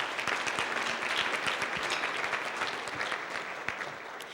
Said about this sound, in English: let's give Elizabeth a round of applause